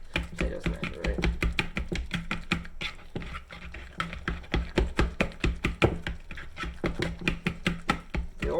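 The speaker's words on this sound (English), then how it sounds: "This probably works best if you use both your hands and this potato smasher" A potato smasher mashes bananas in a bowl for banana bread, producing a steady run of quick, close, squelchy thuds in an even rhythm.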